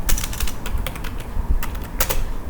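A command being entered on a computer keyboard, a quick run of close, clattering keystrokes in short uneven bursts, loud and dry with no voice.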